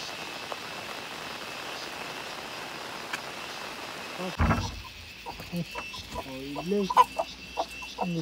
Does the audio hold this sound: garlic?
no